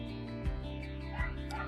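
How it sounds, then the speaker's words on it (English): A terrier next door gives two short barks at an even interval, somewhat distant and muffled, heard over a steady low hum. "if you can hear him barking."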